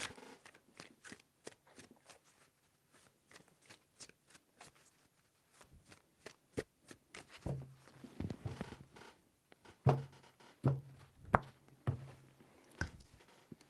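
Tarot cards being shuffled three times, a run of quick dry flicking clicks that builds into louder, denser riffling bursts toward the end, close up with no voices.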